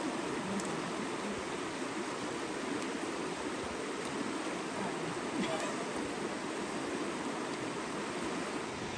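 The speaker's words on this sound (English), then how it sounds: "You can hear the waterfall in the background." Steady broadband rush of a waterfall along a hiking trail near the Toccoa River, a constant, even wash of water noise filling the whole clip with no break or build.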